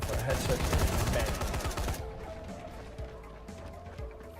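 Gunfire aimed at bandits in the video game Dying Light: The Following, a dense burst of loud sharp shots for about two seconds, then fading into quieter game ambience.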